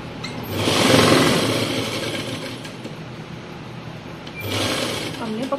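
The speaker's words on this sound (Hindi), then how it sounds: "हम इसके नीचे से सिलाई लगाते चलेंगे" A sewing machine stitches along the underside of a salwar waistband in two bursts, the first longer and swelling, the second shorter after a quieter pause, close and clear, with someone talking over it.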